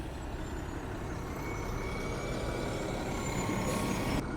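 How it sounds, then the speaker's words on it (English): A large garbage truck idles nearby with a steady low diesel rumble, and near the end a short burst of air-brake hiss rises, then cuts off. "A big trash truck just pulled up"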